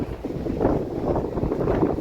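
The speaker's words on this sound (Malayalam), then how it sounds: "അതിനനുസരിച്ചുള്ള കാറ്റും ഉണ്ട് കേട്ടോ, നല്ല കാറ്റുണ്ട്" Strong wind buffets the microphone near a windmill at Chathuranga Para, a low, rumbling gusty roar that swells and eases in waves.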